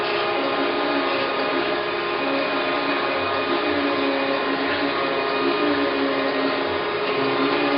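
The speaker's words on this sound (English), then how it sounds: "This is called crisscross by feeding, where the saddle is constant move and the table moves back and forth." A 1993 Okamoto ACC-1224DX automatic surface grinder, 12 by 24 inch, runs steadily in crisscross feed with the table moving back and forth, giving a continuous loud whirring hum with no pauses.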